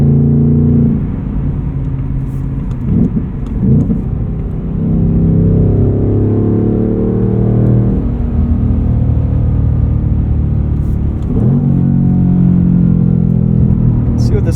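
A 2024 Ford Mustang Dark Horse with a Tremec six-speed manual, its engine revving hard toward redline in repeated pulls, a deep close rumble climbing in pitch, then dropping off between runs, heard from inside the cabin.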